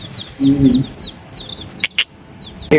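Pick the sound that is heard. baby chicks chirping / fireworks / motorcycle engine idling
baby chicks chirping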